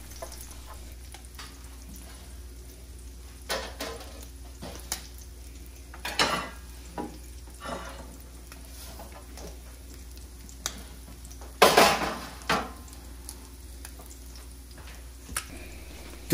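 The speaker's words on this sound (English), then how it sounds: "We're going to cook them over the medium heat for about 3 minutes for each side" Maryland crab cakes frying in a pan over medium heat, a steady faint sizzle broken by occasional clinks and scrapes of a utensil against the pan.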